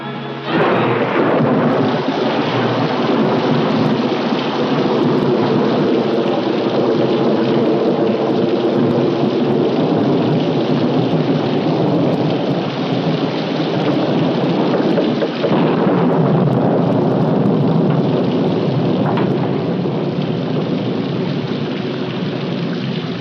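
Heavy rain pours steadily and loudly for the whole stretch, with a low rumble of thunder underneath and no voices.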